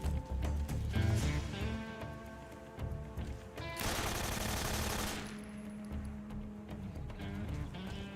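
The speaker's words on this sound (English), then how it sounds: "Forgot you can't aim automatics in Metal Gear Solid, they just start firing immediately." Automatic weapon fire in the video game Metal Gear Solid 3: Snake Eater, a loud burst of rapid shots lasting about a second over steady game music and ambience, with no talking.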